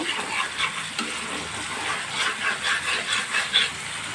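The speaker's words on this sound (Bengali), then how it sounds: "মশলাটা যখন কষানো হবে এই যে দেখেন তেল উঠে গেছে তার মানে মশলাটা ভাজা ভাজা হয়ে গেছে" Spice paste sizzles and crackles steadily in hot oil as it is stirred for a fish curry with yardlong beans, with a few louder scraping stirs toward the end; no talk.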